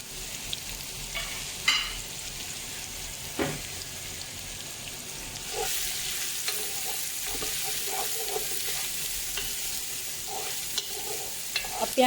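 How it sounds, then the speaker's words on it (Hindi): Onions for a spiced mutton stew are stirred into hot oil in a pot, giving a steady close sizzle with occasional scraping strokes and a louder burst of frying partway through. "जस्ट मैंने ये ऑयल के साथ प्याज को अच्छी तरह मिक्स करके तोड़ लिया है।"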